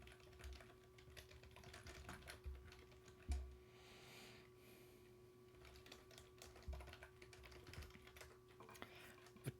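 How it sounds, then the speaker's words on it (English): Light, rapid clicking of computer keyboard typing runs steadily through a very quiet room with a faint hum. "Typing in chat."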